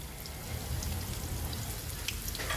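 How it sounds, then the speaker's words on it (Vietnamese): Vietnamese home-cooked dish sizzling in hot oil in a frying pan, a steady dense crackle and hiss running throughout, close and fairly loud, with no voices. "Đây là cái món mình đang chiên rồi nha"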